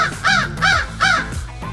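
A fish crow gives three loud, close, nasal caws in quick even succession, then a softer fourth call trails off.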